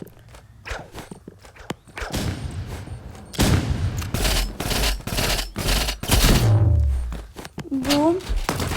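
Shotgun blasts fire repeatedly in a video game, loud sharp bursts coming in quick succession amid other game noise, with someone talking excitedly over the action.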